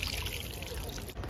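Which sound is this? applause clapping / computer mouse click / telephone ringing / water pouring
water pouring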